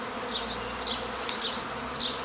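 A swarm of honey bees, gathered after their brood combs were moved into a bucket during a hive rescue from a tree trunk, buzzes in a dense, steady drone close by.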